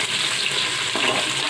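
Onions fry in a pan with a close, loud, continuous sizzle and crackle, and no one speaks.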